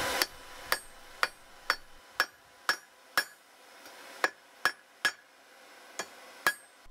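A hammer strikes hot metal on an anvil while forging out a forge-welded billet, ringing clanks in a steady rhythm about every half second, crisp and moderately close.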